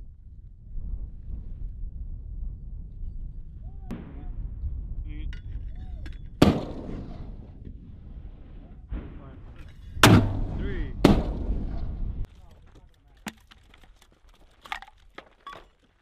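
60 mm mortar rounds firing in a military live-fire exercise: several sharp, loud booming reports at irregular intervals, one near 6.5 s and a pair close together around 10–11 s, with wind rumble, scattered small clicks and distant shouting between shots.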